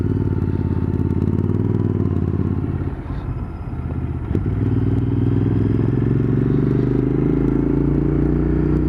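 Steady, loud Royal Enfield Continental GT650 engine drone with a brief dip and clatter partway through, continuous traffic rumble around it.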